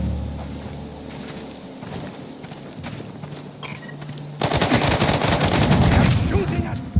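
Rapid gunfire in the shooter Sniper Ghost Warrior Contracts 2 breaks out partway through as a loud, dense burst of repeated shots, following a quieter stretch with scattered clicks and a low rumble.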